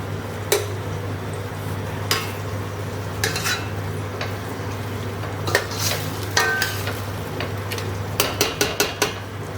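Marinated mutton mixed in a pot for biryani, a spoon scraping and knocking against the metal at irregular intervals over a low steady hum, with a quick burst of taps near the end.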